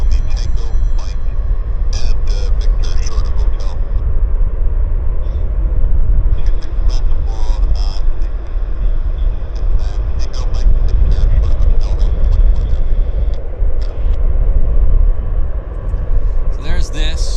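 Heavy jet aircraft, Korean Air and Lufthansa, at Vancouver International Airport: a loud, continuous low roar of engines fills the scene throughout, with people talking over it.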